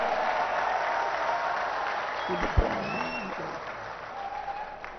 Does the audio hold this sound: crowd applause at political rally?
yes